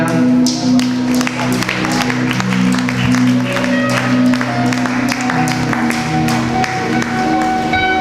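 Congregation at a church gathering claps with sharp, irregular hand strikes over a held keyboard-like tone and background murmur, continuous and fairly loud throughout.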